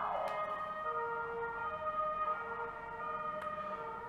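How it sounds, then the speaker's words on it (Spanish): A distant ambulance or police siren wails through a Madrid street, its steady tones sounding faintly for a few seconds with no one speaking. "Una ambulancia o un coche de policía, porque no podía ser de otra forma"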